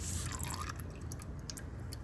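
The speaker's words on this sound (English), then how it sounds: "So I'm draining the oil out." Engine oil draining from a 2019 Honda Pioneer 500 side-by-side into a drain pan, a close steady pouring trickle with small drip-like splashes throughout.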